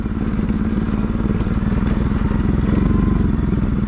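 An NS 200 motorcycle labors along a narrow, rough jungle trail, its engine a loud, steady, close throb with a fast pulsing beat and rattling clatter, no voices over it.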